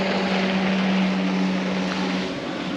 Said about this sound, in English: here comes a wake boat now